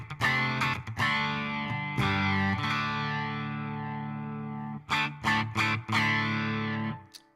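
An electric guitar plays through a Headrush amp modeler with the gain adjusted. It gives a loud, distorted tone with sustained notes and chords, then a run of short, choppy stabs near the end, and no talking is heard.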